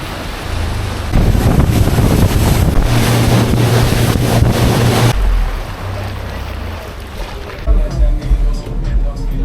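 A motorboat engine drones steadily while crossing Lake Atitlán, Guatemala, as rushing wind buffets the microphone and rough water churns and slaps against the hull.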